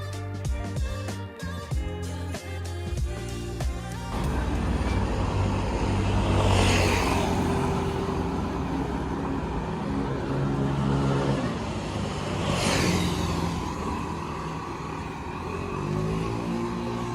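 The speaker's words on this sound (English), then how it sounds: "Is that one of those Ferrari 4x4 things?" A car on a Monaco street roars past close by with a loud, sustained engine drone that swells twice as vehicles go by, with a choppier mechanical rattle at the start.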